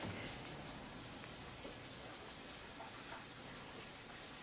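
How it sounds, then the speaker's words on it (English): Cold tap water running steadily over freshly drained spaghetti in a kitchen sink, a continuous faint broadband rush with no talking. "Rinse with cold water."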